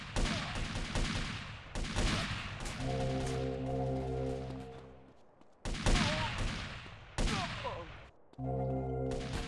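Glock pistol fire in the video game GTA comes as loud bursts of rapid shots separated by short pauses, with a game music drone running underneath.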